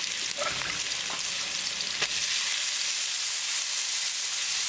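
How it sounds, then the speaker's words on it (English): Onions and ginger sautéing in a hot pan give a loud, steady hiss of frying, close up, with a few faint taps of a utensil early on. "We're going to saute onion until they are nicely translucent."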